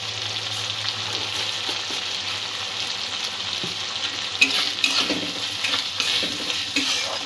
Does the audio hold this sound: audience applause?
no